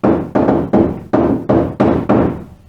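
Seven knuckle taps in an even rhythm on a bare car underbonnet panel with no sound deadener, each one loud, close and hollow with a short ringing tail.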